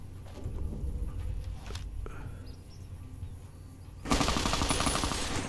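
Gunfire in Fallout: New Vegas: a short burst of distant shots early on, then a sudden loud, sustained rattle of rapid fire over a constant insect-like ambient hum.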